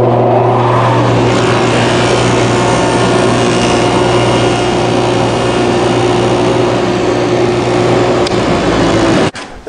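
A table saw runs loud and steady throughout, its blade raised to cut a dado into a wooden sacrificial fence while building an oak trash bin; the whine holds constant, then stops abruptly near the end.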